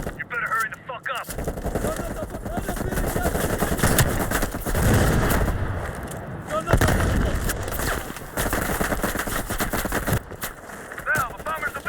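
Heavy machine gun fire rattles in rapid sustained bursts from a ridge in a Soviet war shooter game, loud and continuous for most of the stretch, with voices speaking briefly over it.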